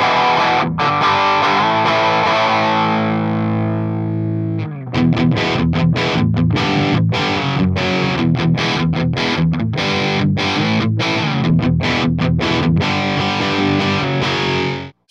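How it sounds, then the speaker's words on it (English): Heavily overdriven 1994 Crate GX600 guitar amplifier on its overdrive channel rings out with a sustained distorted chord, then launches into loud, chugging riffs with rapid rhythmic stops and starts. "let's kick it up a notch with the overdrive channel"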